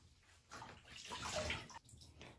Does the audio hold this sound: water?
yes